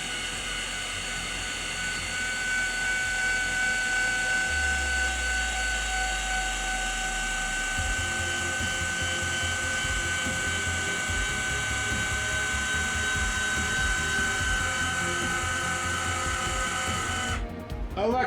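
A linear actuator in a homemade Millennium Falcon cockpit build whirs steadily as it raises the cockpit, a continuous mechanical drone lasting several seconds with a brief clunk near the end.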